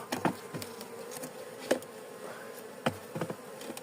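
Honeybees hum softly near a hive, a low continuous drone punctuated by a few louder buzzes as insects fly close past.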